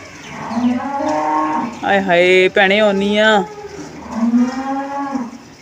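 Cattle moo three times up close, long low calls with the loudest in the middle, while a person speaks briefly alongside.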